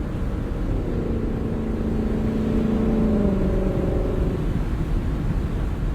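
A Lexus LC500 passes with a steady engine hum that rises in pitch and swells briefly, heard close over a constant broadband road rush with no voices.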